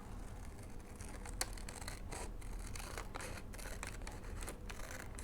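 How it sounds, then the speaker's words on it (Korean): Scissors cut through paper while a Waldorf-style light picture is being made, with a steady string of close, crisp snips and rustles and no voices. "지금은 가위로 해볼게요"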